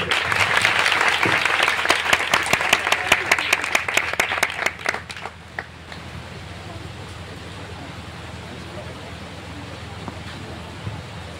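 A youth meeting audience claps loudly together in a dense burst of applause that fades out after about five seconds, leaving quiet room tone.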